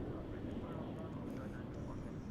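A UPS MD-11 cargo jet at Dallas/Fort Worth International Airport gives off a faint, distant, steady engine rumble under quiet talk.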